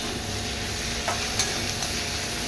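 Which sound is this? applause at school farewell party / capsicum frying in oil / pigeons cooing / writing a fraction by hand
capsicum frying in oil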